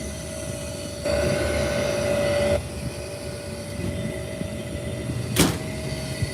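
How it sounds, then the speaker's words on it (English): An HVAC furnace blower running after a heat exchanger replacement: a steady mechanical hum with a constant tonal whine, a louder stretch early on and a brief sharp knock near the end. "If the blower ever comes on."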